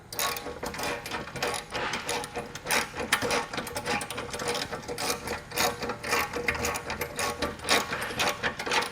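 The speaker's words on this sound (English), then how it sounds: "can I come back with the ratchet and a wrench to hold the bolt head on the other side and start tightening them down" Rapid ratchet clicking while bolts are tightened on a jerry can mount for a Jeep Wrangler JK, a dense, steady mechanical clatter that runs continuously and up close with no talking.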